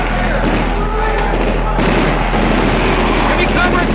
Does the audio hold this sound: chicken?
no